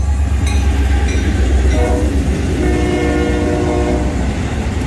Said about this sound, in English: We have FEC 105 returning northbound from New Smyrna Beach Yard here at milepost 112